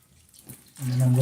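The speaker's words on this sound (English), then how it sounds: "So I add water to my beans now," After a quiet moment, water starts pouring steadily into a pot of beans, a continuous splashing flow that grows louder and fuller.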